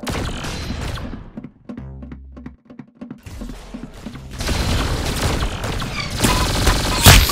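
Heavy gunfire in the video game Arsenal: dense, loud bursts of shots and booms at the start, a short quieter stretch of mechanical clicks, then sustained rapid fire building to a loud peak near the end.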